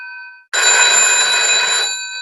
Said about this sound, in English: Again, your phone rings.